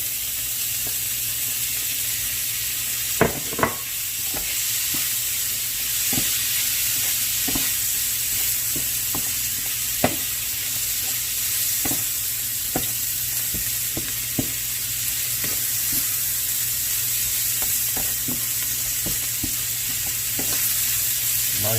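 Smoked brisket sautéing in a pan, a steady close hiss and sizzle running throughout, broken by occasional sharp clicks and taps of a utensil against the pan, with no voices.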